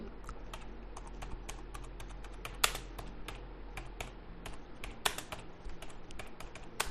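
Rapid typing on a computer keyboard, with irregular clicking keystrokes and a few louder key presses such as an enter key, heard close and fairly quiet with no voices.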